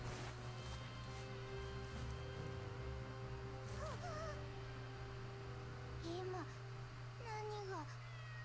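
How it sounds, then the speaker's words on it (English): A cat meows a few times in Inazuma Eleven GO Galaxy, short rising calls in the second half over a steady background music bed. "The cat! It jumped and it can't get down."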